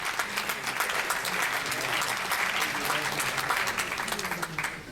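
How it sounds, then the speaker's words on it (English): A large audience gives a loud, dense round of applause for a guest seated in the hall, the clapping sustained and even throughout with no speech over it. "So can we have a huge round of applause for him,"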